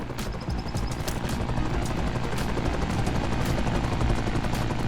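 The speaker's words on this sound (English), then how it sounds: "Oh, helicopter?" A helicopter in Into the Radius 2 makes a steady, loud rotor drone with a rapid chopping pulse that runs throughout, mixed with bursts of distant gunfire.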